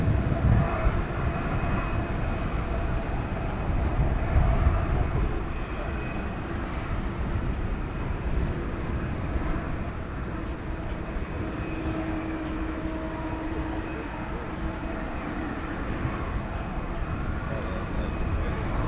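Jet airliner taking off at DFW airport at night, a sustained broad engine roar with a steady distant rumble that holds across the whole stretch, with faint radio chatter mixed in.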